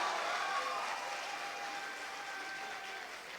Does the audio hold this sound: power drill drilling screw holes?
no